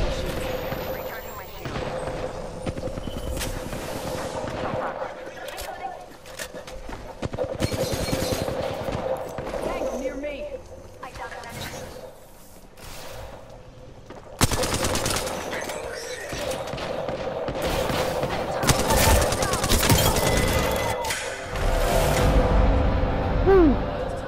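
Rapid bursts of gunfire from the Apex Legends video game rattle in repeated volleys throughout, loud and dense, with brief gaps between exchanges and a steady game tone underneath.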